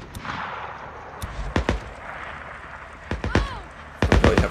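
Sharp gunshots ring out in Days Gone, some in quick pairs and a final cluster, loud and cracking over a hissy outdoor ambience during a shootout at a wedding.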